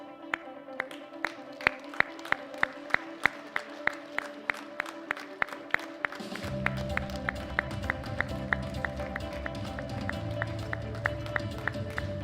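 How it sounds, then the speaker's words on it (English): Audience applause at a European Open Classic Powerlifting Championships as women's 76 kg lifters leave the stage, starting as sparse rhythmic claps and swelling into fuller, continuous clapping over a low background rumble. "please join me in giving them a round of applause as they follow the technical controller from the"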